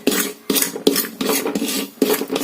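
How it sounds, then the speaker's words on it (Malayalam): Semolina (rava) being roasted in a hot pan for upma, with repeated rasping scrapes of a spatula stirring the grains roughly every half second, close and fairly loud, no voices. "റവ റോസ്റ്റ് ചെയ്തുകൊണ്ടിരിക്കുകയാണ്."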